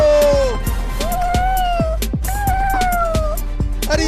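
Several cats meow loudly and insistently, with drawn-out, rising and falling wails overlapping one another at close range amid small thumps and scuffles, as if in pursuit.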